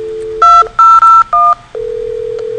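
Telephone keypad dialing tones on an IP phone placing an internal call from extension 2003 to 2001, a quick series of loud, clean beeps, then a steady tone.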